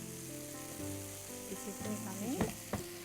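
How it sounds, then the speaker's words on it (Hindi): Peas and leftover paneer frying and being stirred in a pan, a steady sizzle with scraping spoon strokes swelling near the end, heard up close while a voice speaks briefly over it. "हम साथ के साथ इसके अंदर मटर डालकर इसे भी चला दें"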